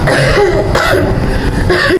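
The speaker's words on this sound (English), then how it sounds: "That is why you see she's coughing out blood." Harsh, rough coughing bursts fill the clip, loud and close, with a strained throat-clearing quality throughout.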